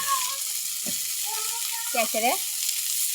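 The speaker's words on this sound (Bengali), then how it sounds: "মাছ ভাজি বসাই দিচ্ছি, মাছ ভাজতেছি" Fish frying in a pan gives a steady soft hiss of sizzling oil that runs under the whole moment, while a few short bursts of speech and voices come through over it.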